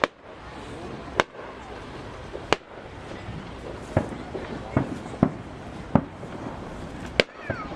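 Fourth of July fireworks burst over Bethpage Ballpark as sharp, loud bangs arriving roughly every second or so, each with a brief rumble, while a crowd murmurs and people talk in between.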